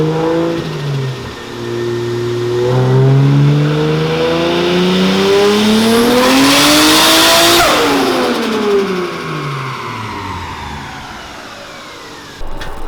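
A single-turbo RB28DET RB26 stroker engine running rough on a dyno, revving up in a loud, rising sweep to a screaming peak, then dropping back to a choppy, uneven idle.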